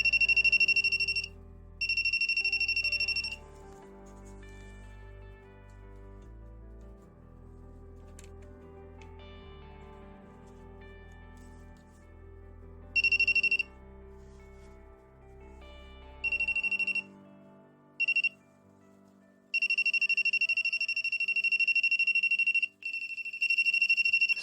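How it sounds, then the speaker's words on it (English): Voltage tester near a magravs power plasma generator, giving a piercing electronic tone in repeated bursts of varying length over a low background hum, with a brief thump along the way. "why on this episode the voltage tester is ringing only when I hold it from the opposite side?"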